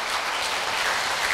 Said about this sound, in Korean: 박수로 감사를 표해주시면 고맙겠습니다.